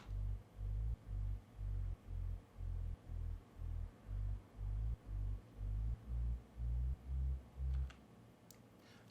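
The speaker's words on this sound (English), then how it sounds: "I believe it is just a sub bass, yeah. There's some slide notes in here." Low sub bass with sliding notes in a remix drop, pulsing in a steady repeating rhythm of about fourteen deep throbbing hits, alone before ending with faint clicks.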